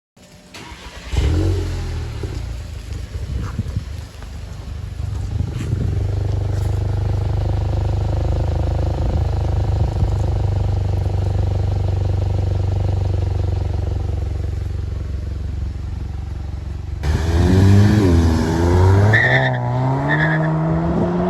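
Tornado Red VW Mk7 with an OEM CSS axle-back exhaust and Stage 1 tune revving in a shop, a sustained engine roar that builds and holds, then tails off as speech takes over.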